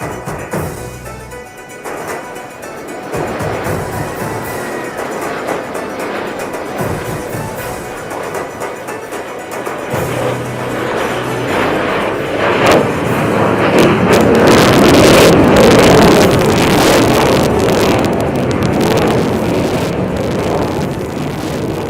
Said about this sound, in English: As you watch, the aircraft is accelerating from 200 kilometers per hour to a very high speed.